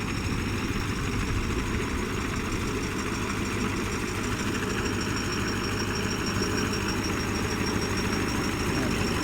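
A Hino V8 engine on a soil-tilling truck with a 23 pump, working a dry-season rice paddy, drones steadily and loud at close range, a dense continuous rumble with no pauses.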